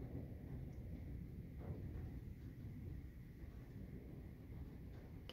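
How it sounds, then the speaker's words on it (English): A continuous low roll of distant thunder during a storm with big raindrops falling, heard as a steady, faint rumble without distinct claps. "Continuous roll of thunder out there at the moment."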